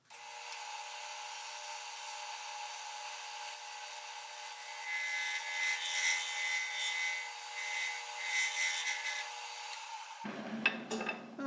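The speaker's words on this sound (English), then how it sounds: "I'll rotate the cutter head a little bit and get a fresh edge and go ahead and finish turning that out" A wood lathe turns an elm bowl against a cutter, giving a steady close rasping, scraping whir that runs continuously and then changes abruptly near the end.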